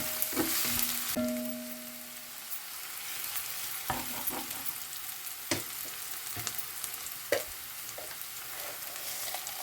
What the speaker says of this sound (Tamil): நான் முதல் வெங்காயத்தை போட்டு வதக்கி போட்டு